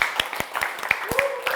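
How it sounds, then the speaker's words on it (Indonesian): A classroom group claps in scattered, uneven bursts, individual sharp hand claps standing out near and loud, while a voice speaks faintly underneath. "Baik, tepuk tangan."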